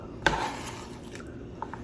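A utensil scoops chicken salad from a cutting board, making a single clear scrape and clink near the start, then a few soft taps and rustles close by with no talking.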